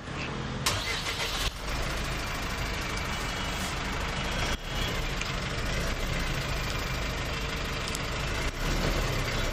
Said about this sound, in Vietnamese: Bây giờ mình sẽ nổ máy thử để cảm nhận là cái tiếng động cơ nó hoạt động như thế nào nha.